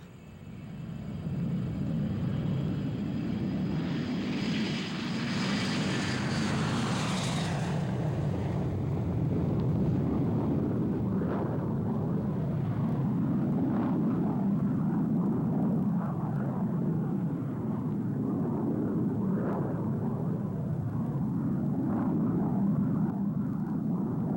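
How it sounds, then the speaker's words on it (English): An Avro Arrow jet interceptor takes off, its engines giving a loud sustained roar that swells with a brief rising whine early on, then holds as a broad steady rumble with wind noise and no speech. "The Arrow was ready for takeoff."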